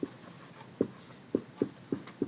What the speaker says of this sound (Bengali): এটা আমি নিচে লিখছি